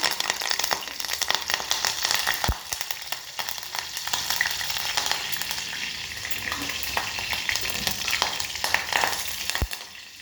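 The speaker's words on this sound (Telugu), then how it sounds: "అట్ లాస్ట్ కరివేపాకు వేసుకొని కొద్దిగా కరివేపాకు వేసుకొని" Curry leaves and dried red chillies crackle in hot tempering oil for a tomato and mint chutney: a loud, steady, dense sizzle with sharp pops, close up and without voices.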